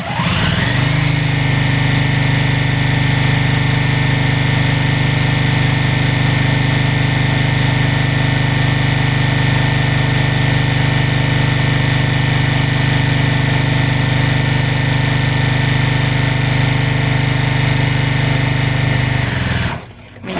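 A sewing machine runs continuously for about twenty seconds, stitching a quarter-inch seam down a fabric lanyard with a back stitch. The steady, loud motor whir stops abruptly at the end, and no one speaks.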